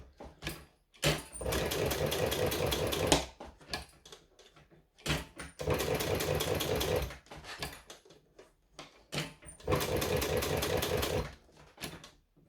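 A sewing machine stitches a strap in three steady runs of fast, rhythmic mechanical whirring, each lasting a few seconds, separated by quiet pauses with small clicks and fabric handling.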